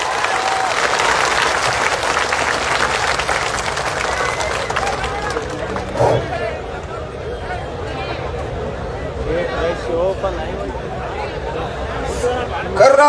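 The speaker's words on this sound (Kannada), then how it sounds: "ಜೋರಾಗಿ ಚಪ್ಪಾಳೆ ಮೂಲಕ ಸ್ವಾಗತ ಮಾಡಿಕೊಡ್ರಿ" Loud audience applause welcoming a speaker at a farmers' and land surveyors' protest rally in Bengaluru, with steady clapping and crowd noise that ease slightly midway and swell again at the end.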